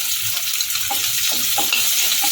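Crushed green chillies fry in a hot pan for a bottle gourd peel stir-fry, giving a loud, steady, close sizzle with light stirring and no voices over it.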